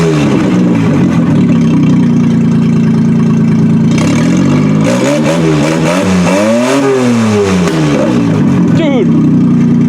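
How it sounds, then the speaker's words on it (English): Old car engine idling roughly, then revving up and down in several rising and falling sweeps, loud and close, with sharp pops as it backfires and blows oil out the exhaust; people talk over it. "So it looks like she backfires now."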